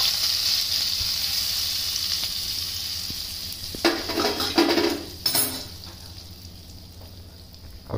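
Spice tempering stirred into chana dal curry in a pan: a steady close sizzle with a burst of louder scraping and clinking of a spoon against metal midway, then settling back to a softer frying hiss.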